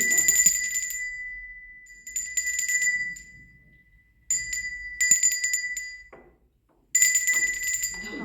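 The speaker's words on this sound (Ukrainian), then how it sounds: "Будь ласка, задзвоніть фіолетовим дзвоником." A handbell rings during a children's music activity in a kindergarten group, giving clear, bright repeated peals that decay between shakes, with faint background murmurs of people.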